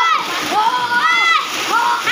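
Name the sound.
water splashing as children dunk while bathing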